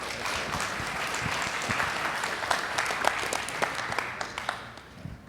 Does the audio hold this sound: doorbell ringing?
no